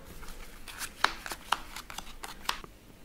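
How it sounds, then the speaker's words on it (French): Playing cards laid down one by one by hand during a card trick, a series of light quick slaps and flicks close by, about a handful in quick succession. "Donc il met les cartes comme ceci."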